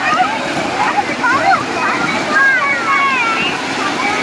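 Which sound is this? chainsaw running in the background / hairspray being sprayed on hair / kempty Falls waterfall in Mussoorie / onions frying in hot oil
kempty Falls waterfall in Mussoorie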